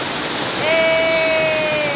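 A forest waterfall on a trek in Chimmini drops from above with a loud, steady rushing roar. A faint whistle-like tone rises briefly over it partway through.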